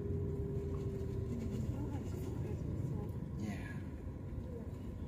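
Road traffic near Sanur Harbour rumbles as a steady low drone, with a vehicle passing close midway and faint talk underneath.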